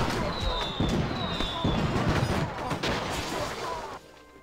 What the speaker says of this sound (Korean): 폭격기를 선물해 주도록 하지 폭탄 투하